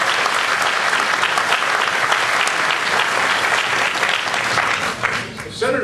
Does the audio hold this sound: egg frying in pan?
no